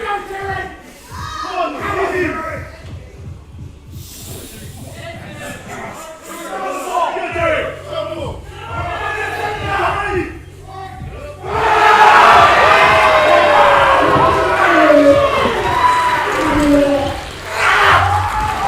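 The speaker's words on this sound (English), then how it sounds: "Lots of support in the crowd for Terry" Crowd at a men's powerlifting championship in New Zealand cheering on a heavy squat lifter, shouts and yells building into a loud, sustained roar in the second half, with a commentator talking early on.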